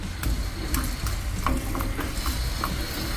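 A lump of asafoetida fries in hot oil in a pan, a close, continuous sizzle broken by soft crackles and stirring scrapes.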